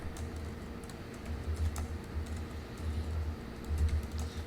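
Typing on a computer keyboard during a Synopsys Verdi software setup, with a steady patter of key taps over low room hum and no talking.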